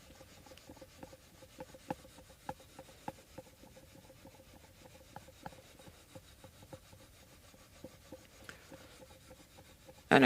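Frets on a Hondo 779 3/4 guitar are leveled with fine grit, giving a soft, steady scraping rub with small periodic clicks, close and quiet, with no talking.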